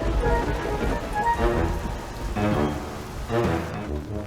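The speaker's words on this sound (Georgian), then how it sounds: "წვიმაც იწყება." Rain begins in an animated cartoon, a steady patter of drops on surfaces mixed with soft background music tones.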